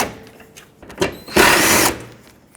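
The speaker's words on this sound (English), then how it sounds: "Let's start by removing the two 10mm bolts that hold it on top." A power tool spins briefly to remove 10mm bolts from the headlight of a 2003-2008 Toyota Corolla, a short loud whirring burst after a few small clicks, close up.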